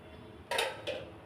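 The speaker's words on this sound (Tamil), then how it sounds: "இப்போ இதை அப்படியே ஒரு மூடி போட்டுடலாம்" A lid set onto a pan of coconut dosa: two close, sharp metallic clinks about a third of a second apart, the first louder, with no talk over them.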